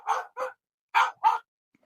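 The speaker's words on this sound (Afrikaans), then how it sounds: "Dan blaf Luna al weer soos net nou." A dog named Luna barks four times in two quick pairs, close and clear against silence, each bark short and sharp.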